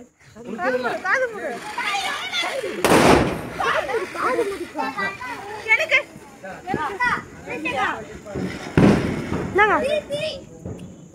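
Diwali firecrackers burst twice, sharp loud pops about six seconds apart, amid constant excited chatter and shouting from children playing nearby.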